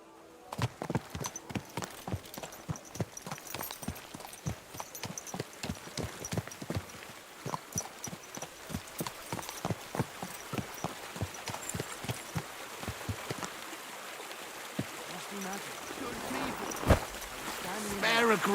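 Horse hooves clip-clop in a steady, rhythmic walk in the video game Kingdom Come: Deliverance II, fairly close, with speech heard intermittently and the hoofbeats fading near the end.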